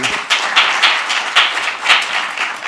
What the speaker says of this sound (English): Another applause for them.